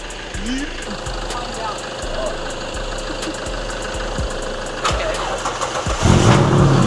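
A Ford BA Falcon drift car, long left sitting, cranks with repeated rhythmic starter churns after a jump start, then catches near the end and rises into a louder running rumble, with people talking nearby.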